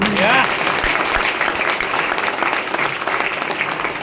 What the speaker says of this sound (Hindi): ताली जोरदार होना चाहिए